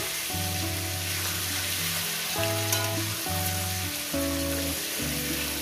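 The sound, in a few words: frying boiled eggs in a pan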